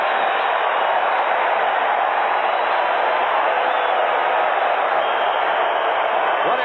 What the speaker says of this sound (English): Listen to the crowd reaction to Ted Hendricks' sack.